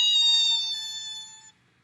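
A voice imitates screeching car brakes with a single sustained, high-pitched "eee" squeal, loud and close, held steadily for about a second and a half before cutting off.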